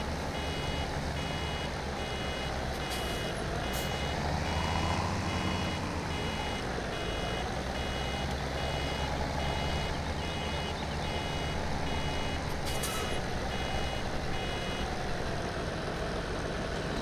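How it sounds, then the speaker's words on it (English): A baler vehicle in Farming Simulator 17 gives off steady repeated reversing beeps over a continuous engine drone, loud and unbroken for the whole stretch. "And yeah, it's beeping again."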